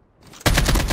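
Sudden burst of rapid automatic gunfire in a first-person shooter, an AK-47 firing loud and close in a dense continuous stream after a brief quiet lead-in.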